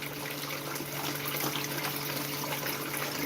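Water splashes and trickles steadily through a gold panning sluice, a continuous close wash of running liquid with no talk over it.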